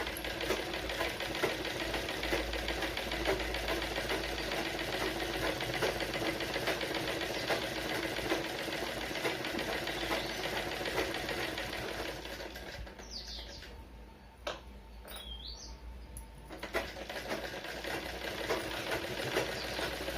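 A sewing machine stitches a blouse lining, its motor running continuously in a steady, close whirring hum with a brief lighter stretch partway through.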